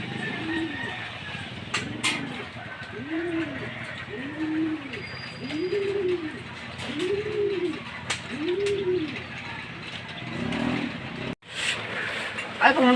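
Racing pigeons cooing in the rain, a steady series of low, rounded coos repeated about once a second, close and fairly clear over patter and faint background noise.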